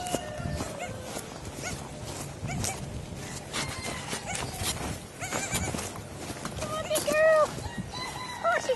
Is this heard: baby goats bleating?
yes